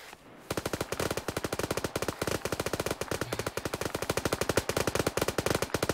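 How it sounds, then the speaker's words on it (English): Rifle fire in Arma 3, a long unbroken automatic burst of rapid, evenly spaced loud shots starting abruptly after a brief quiet moment and continuing to the end. "Big boy rifle firing from southwest of radio tower"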